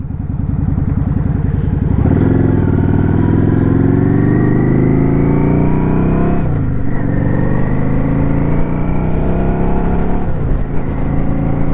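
A Yamaha XVS650 motorcycle engine runs loud and continuous at high idle, its steady tone climbing gradually in pitch with slight dips, with no talking.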